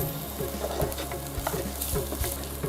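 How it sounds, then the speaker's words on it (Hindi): Garlic and ginger sauté in hot oil, giving a close, continuous crackling sizzle punctuated by repeated light spatula scrapes and taps against the pan. "इसके बाद इसमें डालेंगे अदरक,"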